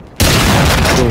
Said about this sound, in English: Boom, right in the fuel tank.